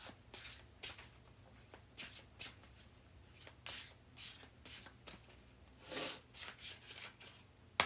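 Tarot cards are shuffled by hand in a series of soft, repeated riffles and slides, quiet and close, with short pauses between bursts.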